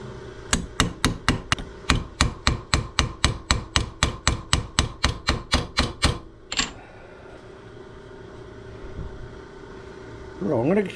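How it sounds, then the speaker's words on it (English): A hammer taps dents out of a two-stroke exhaust pipe in a quick, even run of about twenty sharp metallic knocks, followed by one louder ringing strike and then a quieter stretch. "I'm going to keep tapping away at that for a little while"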